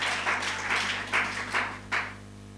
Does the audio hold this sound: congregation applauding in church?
yes